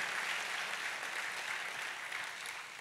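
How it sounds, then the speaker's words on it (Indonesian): Church congregation giving lively applause during a sermon, a continuous even sheet of clapping from many hands throughout. "Kita kasih tepuk tangannya meriah buat Tuhan kita."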